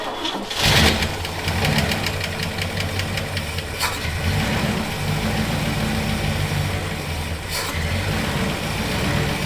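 A 1957 Chevy's engine cranks and catches, then settles into a steady, rumbling idle with a rough, knocking rhythm, close and fairly loud throughout.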